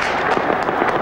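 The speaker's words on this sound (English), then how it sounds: "Kalashnikov rifles and firecrackers." Dense crackling bursts from a crowd scene at Yasser Arafat's funeral in Ramallah, where Kalashnikov rifles and firecrackers go off continuously, loud and rapid with no clear pauses between pops.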